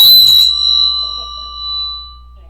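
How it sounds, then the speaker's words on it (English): A bell rings once with a bright, loud strike, its clear tone then ringing on and slowly fading alone. "we should ring a bell for that one."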